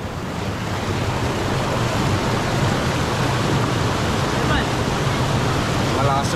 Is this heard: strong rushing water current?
yes